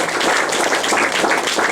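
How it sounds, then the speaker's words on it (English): Audience applause fills a guitar clinic, a dense, steady wash of many hands clapping at close range that holds evenly loud from start to finish with no voices breaking through. "Please give yourselves a round of applause."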